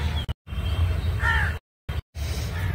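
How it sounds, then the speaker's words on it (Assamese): A crow caws once in a botanical garden in Fancy Bazar, Guwahati, Assam. The harsh call stands out over steady low outdoor rumble, which cuts out briefly a few times. "এয়া চৰাই চিৰিকটিও আহিছে"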